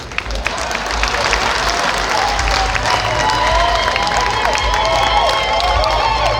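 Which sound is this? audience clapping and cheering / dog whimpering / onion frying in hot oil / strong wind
audience clapping and cheering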